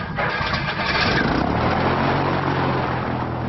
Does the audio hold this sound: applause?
no